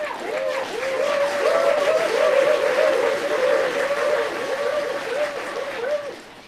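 A triggered applause sound effect hit repeatedly, building into a dense wash of crowd clapping with a warbling tonal layer riding over it, swelling and then fading out.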